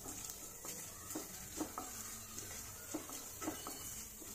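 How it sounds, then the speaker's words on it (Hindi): Chana dal dry-roasting in a pan, with a steady soft sizzle and rustle broken by repeated scraping stir strokes of a spoon, fairly faint and without talk. "जब तक इसका कलर डार्क नहीं हो जाता तब तक हम इसको ऐसे चलाते रहेंगे।"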